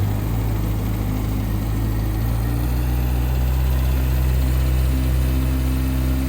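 A Kawasaki ZX6R 636cc sport bike engine idling cold, a steady loud low drone with a smooth even pulse and no revs, close to the machine.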